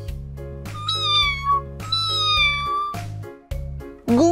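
A kitten meows several times, long high-pitched cries that rise and fall, over a steady low droning hum close by.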